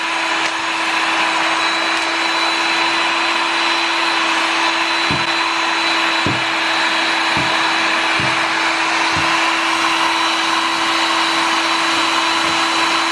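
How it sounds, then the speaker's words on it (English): A heat gun rated to about 800 degrees blows steadily on the top of a Starbucks snow globe tumbler, a loud constant whooshing roar with a steady hum, and a few faint taps as the cup is turned. "So my heat gun goes all the way to like, I think 800."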